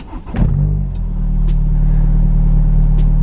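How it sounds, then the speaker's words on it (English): A Honda S2000 engine cranks and fires up after a push-button start, with a short burst of revs that settles into a steady, loud, close-up idle rumble. "You have to push your engine start button."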